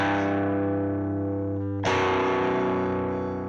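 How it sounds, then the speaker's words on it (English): Distorted electric guitar through a Marshall amp, a sustained crunchy chord ringing out, then a fresh strum struck loudly near the end and left to decay, played alone. "That's pure Marshall tone right there"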